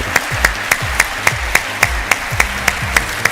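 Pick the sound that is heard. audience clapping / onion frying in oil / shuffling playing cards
audience clapping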